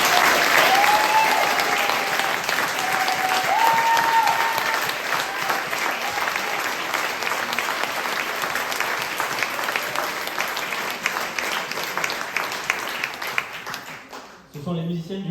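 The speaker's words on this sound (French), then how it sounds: "Je pense qu'on peut les applaudir en même temps." An audience in a hall at a poetry and music recital applauds the musicians with sustained dense clapping that gradually fades, while a voice is heard over it.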